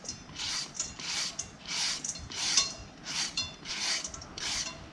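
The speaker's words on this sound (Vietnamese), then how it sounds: "gọt vỏ rồi mình rửa sạch, mình nạo đi cái phần hột bên trong và mình sẽ bào sợi ha" Peeled papaya is shredded into strips with a julienne peeler, giving a close rhythmic rasping. About nine scraping strokes come in steady succession over quiet background, with no talking.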